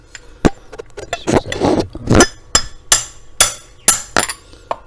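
A KTM engine part is tapped into place with a small aluminium block, producing a string of sharp, close metallic knocks in an uneven rhythm, with a brief scuffling burst in the middle and no talking.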